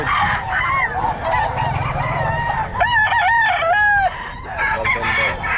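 Gamefowl stags at a Bulacan pet market crow loudly and close, several overlapping crows with clucks and honking fowl calls mixed in over a busy market background.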